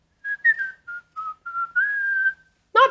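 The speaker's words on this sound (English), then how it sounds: "The kind of whistling I want to do is like the whistling that like a mom does on the street when you're like late for dinner" A person whistles loudly alone: a string of short, bright notes followed by one long sustained tone, then a brief burst of voice at the end.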